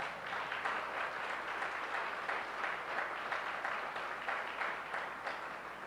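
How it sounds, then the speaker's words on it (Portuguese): A church congregation applauds the Lord, a sustained wash of many hands clapping together at moderate distance, even and unbroken throughout. "Você pode aplaudir o Senhor"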